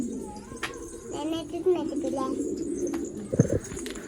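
Soft pigeon cooing close by, a few low burbling calls, with a voice and faint chatter mixed in.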